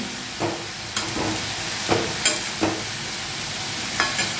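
Fish head and bottle gourd cook in a pan as the water dries off, with a constant close sizzle and a few soft scraping stirs at irregular intervals. Nobody speaks.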